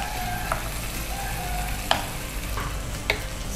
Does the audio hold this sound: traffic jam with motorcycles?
no